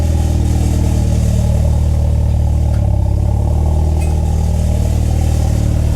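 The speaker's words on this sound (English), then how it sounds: "what's annoying is Letitia's Evo 10 always had a better cold start than my Evo, and now I'm sure her RS3 will as well" An Audi RS3 engine runs loud and steady right after a cold start, a constant deep drone with rapid pulsing throughout and no talking.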